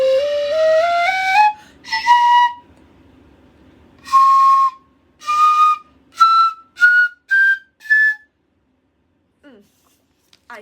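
A Ryūteki, a Japanese bamboo transverse flute, plays a gently ascending scale: a rising glide, then a string of separate breathy notes climbing step by step, played close and alone before fading to quiet.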